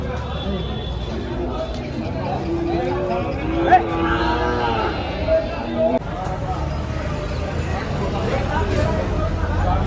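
Cows moo a few times over a busy crowd's chatter at a cattle market in Dhule, the lowing drawn out and fairly near amid steady background hubbub.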